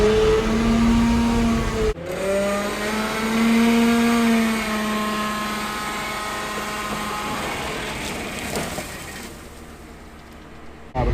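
A Yanmar SA325 compact tractor engine runs steadily with its PTO engaged: a loud, close droning hum, a shift in pitch early on, then a slightly lower, even rumble with a brief clatter near the end.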